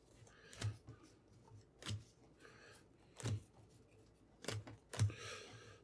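Event cards from a fantasy deck-building board game are handled and mixed, giving five soft, separate papery swishes spaced about a second apart, faint and close, with no talking.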